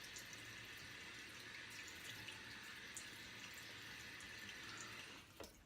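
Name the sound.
water splashed on face while shaving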